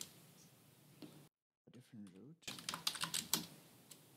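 Typing on a computer keyboard: a quick cluster of soft clicks and taps, near and faint, after a brief pause and some speech.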